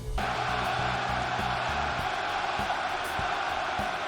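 A wrestling arena crowd roars continuously at a live pro wrestling event, with a steady dense wash of cheering and rhythmic chanting pulses that fill the whole stretch.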